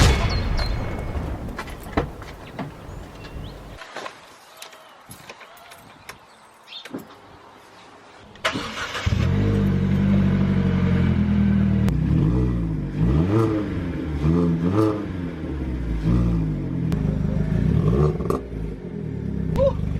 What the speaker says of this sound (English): Let's actually give this car a few celebratory revs